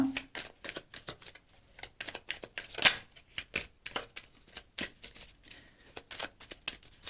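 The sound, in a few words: shuffling and cutting a tarot card deck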